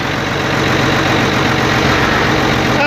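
An FNM 180 truck's diesel engine idles loudly and close up after three years sitting parked, with a steady, rough, rumbling throb that runs without a break.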